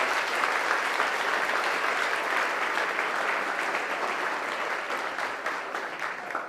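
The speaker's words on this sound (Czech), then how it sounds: "Poprosím o potlesk ještě jednou." A crowd claps in sustained, dense applause that holds steady for several seconds before slowly tapering off.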